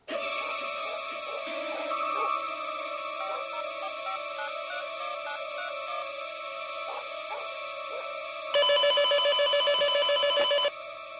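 A telephone rings with a steady repeating electronic tone in a Turkish drama scene, growing louder and more insistent near the end, with no talking over it.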